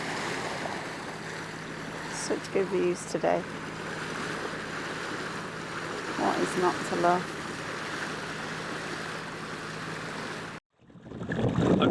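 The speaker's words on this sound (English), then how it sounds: "Just keeping watch, enjoying the swoosh of the sea." Sea waves swoosh around a moored sailing boat off the Scottish island of Gigha, a steady rushing wash with wind, while a person speaks briefly over it near the start and middle.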